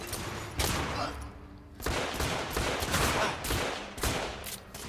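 Rapid gunfire in the third-person shooter The Order 1886, loud close bursts of shots cracking in repeated volleys with short gaps between them, no voices over it.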